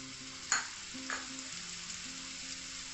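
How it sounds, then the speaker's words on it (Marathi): Masala fries steadily in a teaspoon of oil in a pan, a continuous close hiss with a couple of soft stirring scrapes and no voices. "त्याचा कच्चेपणा जाण्यासाठी थोडासा हा फ्राय करून घ्यायचा आहे आपल्याला"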